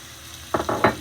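Carrots tossed into a hot pan with cumin seeds set off three quick bursts of sizzling, close and fairly loud, following a quiet stretch of low background hiss.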